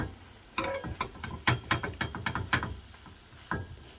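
Dried pollack strips coated in red pepper paste are stirred in a pan over low heat, with close scraping and clattering strokes in an uneven rhythm over a soft sizzle.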